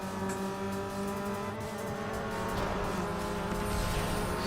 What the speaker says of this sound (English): Now the actual V8 car doesn't sound like a V8.